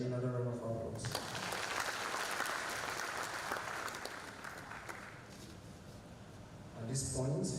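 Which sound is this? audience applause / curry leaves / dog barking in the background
audience applause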